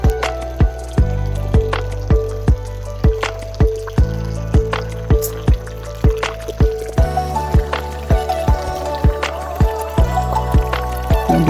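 Clear water falls steadily from a cow-horn shaped spout at a village water source in Phidim, making a close, continuous splashing stream with rhythmic dripping and plopping impacts throughout, with no one talking.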